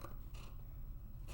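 Quiet snips of scissors cutting regular paper, two or three soft crisp cuts spaced apart against a low background hum.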